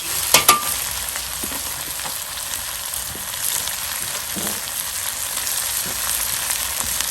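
A stir fry sizzles steadily in a Lodge wok over a Weber charcoal grill, with a constant hiss broken by a couple of sharp clanks early on.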